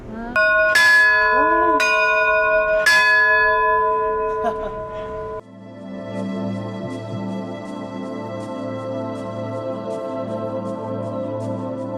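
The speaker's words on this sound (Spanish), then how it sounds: "se tocaban las 2 campanas" Two church bells in Cuenca ring out in several resonant strikes, then give way to a steadier, repeated peal that carries on to the end.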